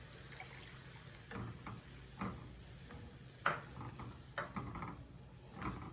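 A spoon stirs soy sauce, oil and vinegar together in a bowl for pork adobo, giving a few quiet, scattered clinks and light liquid sloshes against a faint background, close up with no speech.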